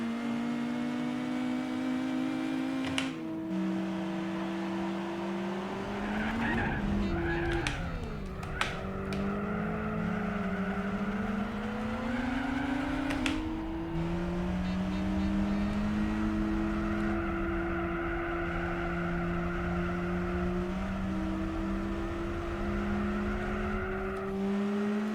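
A little Peugeot racing through a coastal town in Gran Turismo 4, its engine droning steadily with rising and falling revs through gear changes, close and continuous with a brief scraping skid midway.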